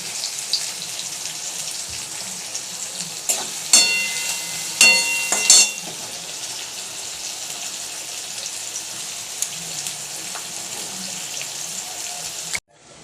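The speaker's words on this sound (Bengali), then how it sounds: "পেঁয়াজটা ভেজে নিই লাল লাল করে" Onions sizzle steadily in a hot pan for a Bengali chicken curry, a continuous close hiss broken by a few sharp clinks and scrapes of a spoon stirring midway, then cutting off abruptly near the end; no one speaks.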